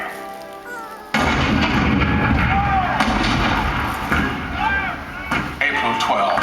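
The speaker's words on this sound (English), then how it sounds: "The cannon spoke for war, bitter, violent, and devastating." Cannon fire at Fort Sumter as heavy booming blasts that begin abruptly and roll on in a dense, continuous barrage, loud and close, with voices partly under the din.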